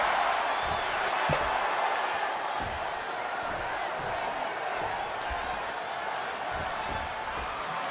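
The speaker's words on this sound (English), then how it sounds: "just listen to this crowd here in Chicago" Arena crowd noise from the WWE 2K26 video game, a wrestling match in Chicago with CM Punk facing Eddie Guerrero; a steady, loud roar of cheering spectators with scattered thuds and pops throughout, under commentary speech.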